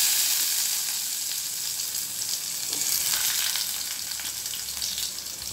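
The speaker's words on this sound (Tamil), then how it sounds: "நல்லா கடுகு பொரிஞ்ச உடனே வெங்காயம் சேர்த்துக்கிறேன்." Onion fries in hot oil just after mustard seeds have spluttered, for a simple home-style kuzhambu. The result is a loud, dense, even hiss of sizzling with faint pops, heard up close with no talk.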